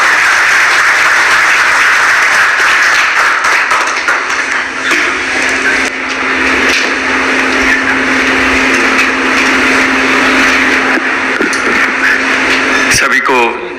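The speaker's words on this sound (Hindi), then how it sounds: "एक बार जोरदार तालियों से उनका स्वागत कीजिए।" Loud, sustained applause from an audience welcoming a managing director at a rural e-mobility event, continuous clapping for about fourteen seconds with a constant dense texture.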